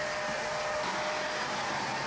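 A vacuum cleaner runs steadily at close range after being carried up the stairs for a bathroom deep clean, its loud even roar holding without a break and with no voices over it.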